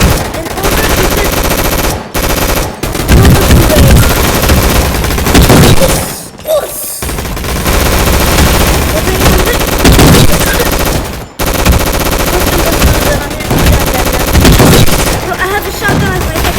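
Loud, dense gunfire from the video game Gun Fight Arena, with long sustained automatic bursts and booming blasts separated by a few brief silent gaps.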